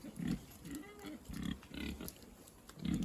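Several pigs grunting on a farm in cold weather while being herded into a pen, short low grunts in uneven bursts close by, some louder and clustered, with light background noise between them.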